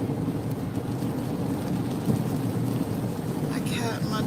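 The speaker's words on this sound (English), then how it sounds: "Man, it's raining." Steady rain falls outdoors at night as a dense, even hiss with low rumbling underneath, and a faint voice rises briefly near the end.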